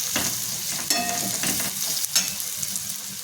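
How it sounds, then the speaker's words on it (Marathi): Turmeric, goda masala and red chilli powder being stirred into vegetables in a hot pan, with a soft steady sizzle and a few scraping strokes of the spoon, close by and without talk. "ते छान मिक्स करून घेते मी"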